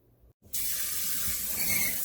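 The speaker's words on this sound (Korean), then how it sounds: "찬물에 이렇게 샤워 시켜주세요" Cold tap water gushes steadily into a kitchen sink as cooked beef blood curd is rinsed, a loud close continuous splash starting after a brief pause.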